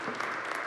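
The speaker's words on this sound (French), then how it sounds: "On vous applaudit." Brief, faint audience applause at a panel discussion event, a soft continuous patter of clapping.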